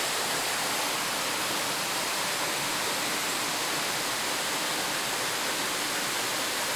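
Waterfall at Natural Bridge in Springbrook National Park pours as a constant, dense broadband roar, steady and full throughout without pauses or voices.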